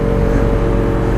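A motorcycle engine drones loud and close in second gear, holding a steady, buzzy pitch through a brief gear change, with no voices.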